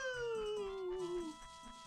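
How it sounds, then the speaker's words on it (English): A hurt dog whimpering in the video game Ocarina of Time: a single high, mournful whine that slides slowly downward for over a second, close and clear, with soft game background sounds beneath. "I hate hurt dog noise."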